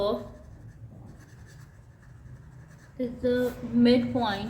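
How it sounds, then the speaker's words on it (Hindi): A pen scratches across paper, writing out a 9th-class coordinate geometry solution. Faint strokes come first, then a voice talks over the writing. "तो यहाँ पे मैं लिख देती हूँ"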